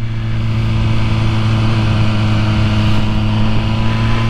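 An MV Agusta Brutale 1000RR sport motorcycle accelerates, its engine a loud, steady, close drone with a strong low hum that holds throughout.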